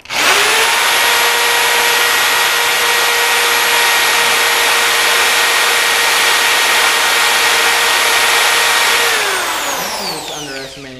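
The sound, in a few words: drilling with a dull drill bit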